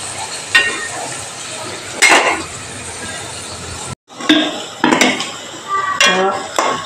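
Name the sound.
stirring onions frying in a pan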